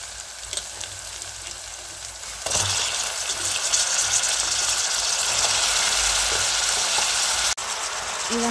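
Brinjal pieces dropped into a pan of cooked-down tomatoes burst into a louder, sustained sizzling hiss after a quieter simmer, close up, ending with a sharp knock and brief clatter.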